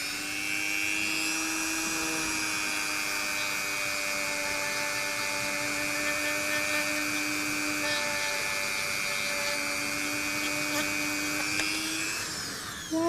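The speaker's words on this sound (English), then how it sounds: "turn your tool on high. And rub it into the beeswax, and the friction will melt the beeswax onto the pad." A rotary tool spinning on high drives a beeswax pad across a shell for polishing, giving a steady close whine with stable tones that runs unbroken for the whole stretch and stops abruptly at the end.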